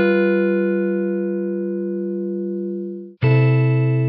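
Clean electric guitar chords played through a Twin Reverb amp simulation: one sustained chord rings out and slowly decays, then a second chord is struck sharply near the end, close and clear.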